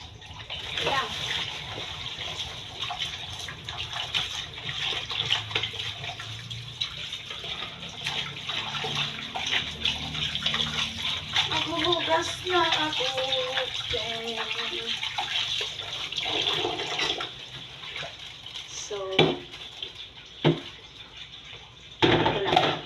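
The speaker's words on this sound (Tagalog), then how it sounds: "hugasan ko ng chicken breast" Chicken breast washed under running tap water, a steady hiss of flowing water with occasional splashing and handling noises, faint against the background and running throughout.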